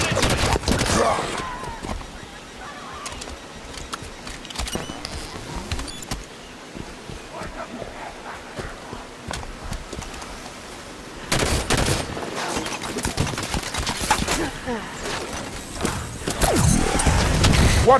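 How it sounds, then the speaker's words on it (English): Turret gunfire in Halo 5: Guardians, rapid automatic bursts that are loud at the start and again in the second half, with sporadic shots and combat noise between them. "Watch the turret!"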